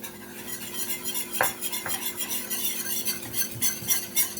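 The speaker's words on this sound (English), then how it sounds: "you just stir until you get the color that you desire" A utensil stirs flour into gravy in a pan, making steady, close scraping and clinking strokes against the metal over a faint sizzle, with no voices.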